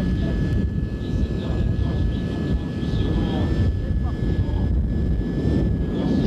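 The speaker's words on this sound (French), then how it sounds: "vous entendez sur la ligne son le bruit des moteurs du 1er étage" The first-stage engines of an Ariane rocket on its first flight roar in a steady, heavy rumble, with a thin whine overhead and faint French speech underneath.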